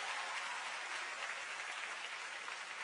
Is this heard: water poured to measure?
no